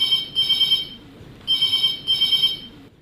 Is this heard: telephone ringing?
yes